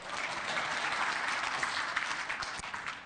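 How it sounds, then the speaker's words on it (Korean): A seated audience at a business breakfast lecture bursts into sustained applause, a dense, even wash of many hands clapping at steady loudness for several seconds, with no speech over it. "김상호님 박수!"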